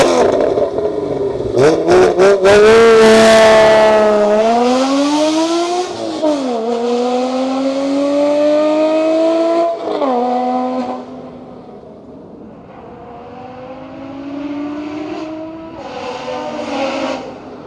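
A 2016 Porsche Cayman GT4 engine cranks and fires up, then revs hard several times, its pitch climbing and falling in loud, close bursts before settling to a rough idle.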